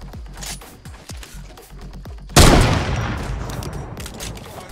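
Gunshots in the video game Fortnite: a run of sharp, evenly spaced shots, then a sudden loud blast that hangs on and fades slowly, all close and with no talk.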